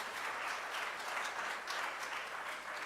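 A crowd applauding, dense steady clapping that fills the whole stretch at an even, fairly loud level.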